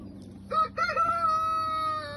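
A cockerel crows loudly and close by on a smallholding, one long drawn-out call standing clear over a low background hum.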